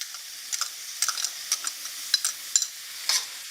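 Capers hit a hot pan already holding zucchini, anchovies and garlic, producing a soft, hissing sizzle broken by light scrapes and ticks of stirring at close range, with no voices.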